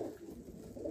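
Teddy golden and dab pigeons coo softly in a loft for sale in Amritsar, Punjab, a brief low murmuring call heard close and fairly faint.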